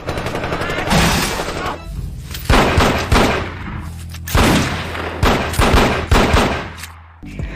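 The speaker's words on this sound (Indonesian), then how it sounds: "Ketika Tiger sedang berdiri di sebuah pohon tumbang untuk menembak Jun" Gunfire in a 2007 Hong Kong action film fight between police and triad gangsters in a forest, loud rapid bursts and overlapping shots with heavy thumps and booms, dense and continuous throughout.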